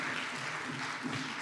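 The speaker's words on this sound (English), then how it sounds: "So give her another round of applause" An audience at a book launch applauds, a brief, fairly quiet wash of steady clapping with no pauses.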